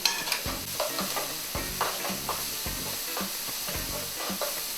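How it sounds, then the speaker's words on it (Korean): Doubanjiang stir-fried for mapo tofu over lowered heat, a steady close sizzle broken by repeated scraping strokes of a utensil against the pan, no voices. "한번 볶아주고"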